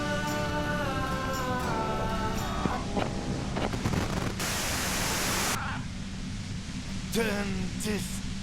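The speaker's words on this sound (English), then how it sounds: "you can do it through the white noise" A burst of broadband white noise plays in the video game Disco Elysium, a dense hiss that cuts in sharply and then drops away, with speaking voices and music before and after it.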